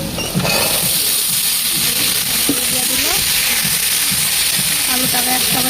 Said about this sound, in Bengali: এখন আলুটা ভালো করে ভাজা নিব।